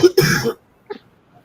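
A single short, harsh cough or throat-clear, loud and close, followed by quiet with a faint small sound after.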